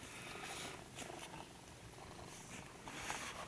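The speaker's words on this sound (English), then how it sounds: "They purr a lot." Pet cats purring softly and continuously at close range, a low rumbling drone with a faint rhythmic pulse, quiet overall with no talking over it.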